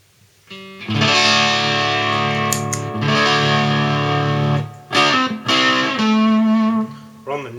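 Strat electric guitar played on its neck pickup through a handmade tube distortion pedal, loud sustained distorted chords and notes with raised gain, darker and bluesy in tone, shifting between chords with short pauses.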